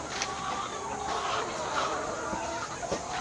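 Chickens cluck faintly and intermittently beneath a steady wash of background noise, with no talking.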